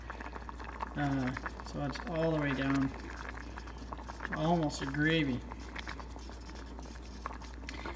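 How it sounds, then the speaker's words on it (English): Concord grape skins simmer in a pot of water, a steady bubbling boil running throughout beneath a person talking. "so I got this into a boil here"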